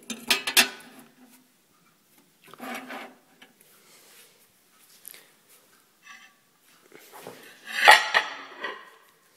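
Microwave turntable plate and its pivot being set back into a cleaned microwave oven: a few separate clinks and clatters of glass and plastic, loudest near the end, with quiet gaps between.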